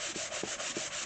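A worn sanding block rubs back and forth across a wooden surface during furniture restoration, giving about four quick, close, rasping strokes in steady rhythm with no voices.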